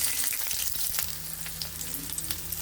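Chopped onion and green chili fry in a spoonful of white oil in a pan, making a steady close sizzle with light crackles and occasional stirring, with no talk.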